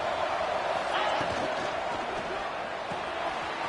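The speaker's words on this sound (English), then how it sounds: "This Boise State crowd bringing the noise. It's deafening here on third down." Boise State home crowd in College Football 26 roaring loudly on third down, a dense, steady wall of stadium noise with scattered thumps underneath, and a commentator talking over it.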